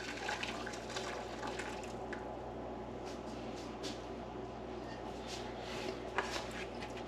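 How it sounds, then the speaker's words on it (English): Boiling brine is poured over beets: a steady, fairly faint liquid splashing and trickling that runs the whole time, alone, with slight surges. "Okay, my brine is at a full boil. Just pour it over the beets."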